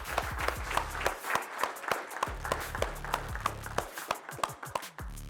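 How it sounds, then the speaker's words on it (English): At a motivational talk, a small audience gives quiet, scattered applause: distinct individual claps sound at an uneven pace, fairly faint, with some low murmuring among them. "So give yourself a round of applause for showing up."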